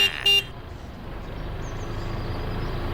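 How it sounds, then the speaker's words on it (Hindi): Car horn honking: one short loud blast at the start, then a low rumbling vehicle and street background continuing alone. "इतना हॉर्न क्यों बजा रहा है वो भाई?"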